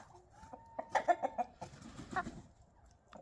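Chickens cluck in a quick burst of short calls close by, with a young rooster's thin squawks mixed in, then quieter scattered clucking.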